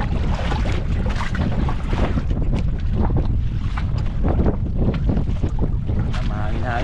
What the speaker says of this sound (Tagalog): Mahangin-hangin pero hindi gaanong malakas idol